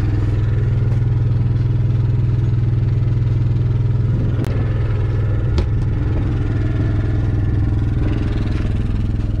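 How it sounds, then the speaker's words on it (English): Close, loud exhaust note from a running off-grid generator: a constant low, throbbing hum with a rapid regular beat and faint rattles, unbroken for the full stretch, with no voices over it. "That's my generator exhaust."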